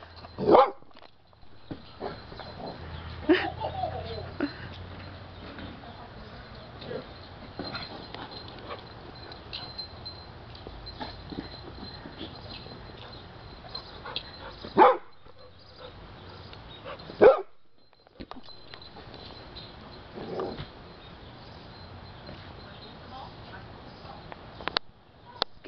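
A dog barks in several sharp bursts spread across a long stretch, with quieter rustling and movement between barks and some brief silent gaps.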